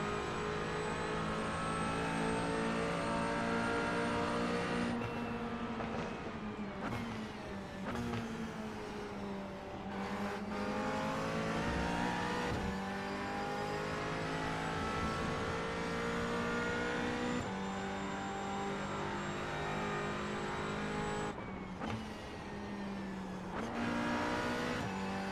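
A GT4 race car in iRacing roars at high revs, its engine note rising and dropping through gear changes and a downshift to third, steady and loud throughout with brief tire squeals.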